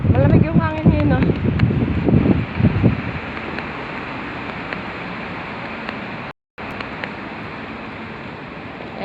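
Wind blowing outdoors in Bahrain as a steady, broad rush that fills the whole stretch, with voices chatting over it in the first few seconds and a brief dropout near the end.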